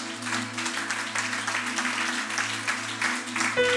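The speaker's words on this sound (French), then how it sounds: "On peut applaudir à la gloire de Dieu." A church congregation claps in praise, a steady, dense patter of hands over a sustained low organ-like drone, with a brief voice or tone at the very end.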